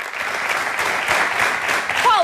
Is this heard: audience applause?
yes